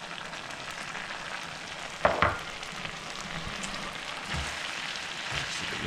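Garlic butter pasta with Parmesan tossed in a hot pan: a soft, continuous sizzle with a sharp clatter of the utensil against the pan near the middle, then quieter stirring, no talk.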